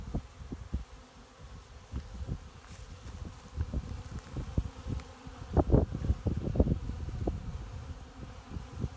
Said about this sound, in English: give the bees a spot to land to get the sugar water